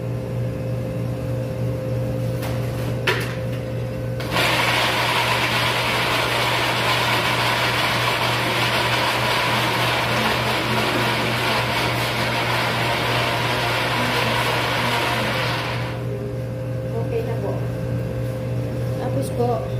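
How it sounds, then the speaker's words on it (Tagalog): A kitchen blender whirs through tomatoes for a baked lasagna, starting abruptly after a few seconds, roaring at a steady loud pitch for about twelve seconds, then cutting off over a low background hum. "I-blender ko po ang kamatis."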